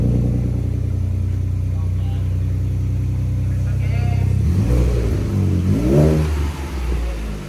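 A 2.7L EcoBoost Ford F-150 with a PPE cat-back exhaust idles with a deep, steady rumble, then revs up sharply twice in rising, loud pulls close by, with voices talking over it.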